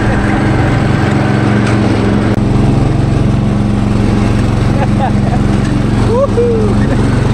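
Lawn tractor engine running steadily after starting, a close, loud, constant low chugging drone throughout, with faint voices in the background.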